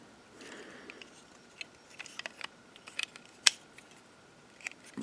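Plastic parts of a Toyworld Dinobot combiner toy swivel and fold, making a scattered run of small, sharp clicks and ticks up close, with one crisp snap standing out among them.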